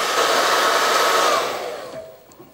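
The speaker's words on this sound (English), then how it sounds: "And all I need to do now is get a hairdryer." A hairdryer blows steadily, drying wet paint on a canvas, then its roar tapers off and fades toward the end.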